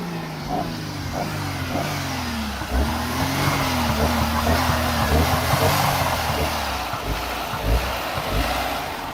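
A big, heavy car on a beach, its engine revving repeatedly as the gas pedal is pumped hard, loud and close, rising and falling in pitch over a rumbling idle.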